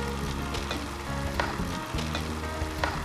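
Chicken pieces drop into a hot pan of pulao and gravy, raising a steady close sizzle and frying hiss that continues throughout with faint stirring.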